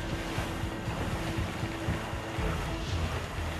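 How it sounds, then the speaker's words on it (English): An ocean-going sailing ship moves along a wide river, with a steady wash of water and wind noise around the hull, continuous and fairly close. "This ship's built for the open ocean"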